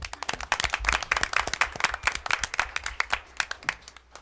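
A smaller group at a school board of education meeting gives a round of applause for parents, distinct individual claps forming an uneven, close rhythm that keeps going steadily and thins slightly toward the end.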